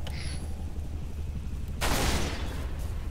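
Gunfire in Halo Reach: a sharp, loud burst of shots and booming blasts cuts in partway through, following quieter rumbling game ambience.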